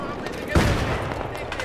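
Light machine gun fire in a large-scale online shooter game, a short burst of rapid shots with a louder crack partway through, set against busy battle noise.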